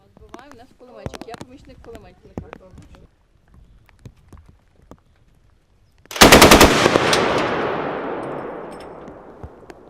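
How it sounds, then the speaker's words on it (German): A machine gun fired by a first-time volunteer on a Ukrainian air-defence crew hunting Shahed drones opens up in a loud rapid burst that rings out and decays, after several seconds of voices and faint thumps. "Diese Freiwillige wird zum ersten Mal einige Schüsse über das Maschinengewehr abgeben."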